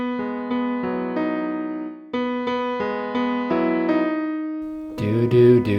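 Piano notes from the closing passage of a song, single tones and chords ringing out one after another, close and clear, ending on a fuller, brighter chord.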